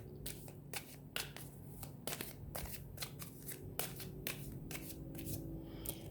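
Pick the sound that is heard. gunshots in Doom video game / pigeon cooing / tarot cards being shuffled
tarot cards being shuffled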